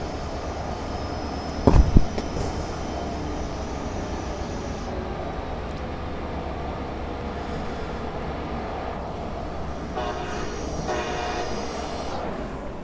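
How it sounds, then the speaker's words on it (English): Continuous rumble of train cars rolling along a track in the video game Train Simulator Classic, with a sharp metallic clank early on. "Not the worst audio that I've heard for rolling stock"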